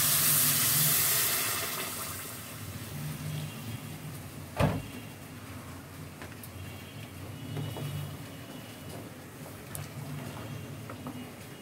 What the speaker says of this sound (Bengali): পরিমাণ মতো গরম পানি দিয়েছে